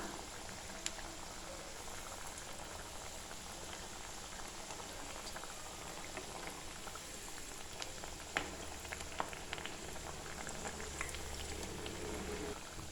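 Lentil fritters, Kerala-style parippu vada, frying in hot oil over a medium flame, giving a steady, continuous bubbling sizzle at close range, with a few faint clicks and no voices.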